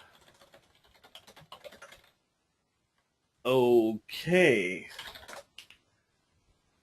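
Fingers tap faintly on a computer keyboard in a scattered run of light clicks for about two seconds, then a pause before someone speaks briefly.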